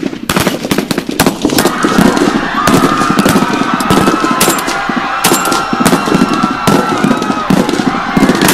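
A gunshots sound effect in an emergency alert scenario about shots fired at a hospital: loud, rapid cracks and bursts of gunfire, dense and irregular, sustained over a rumbling background throughout.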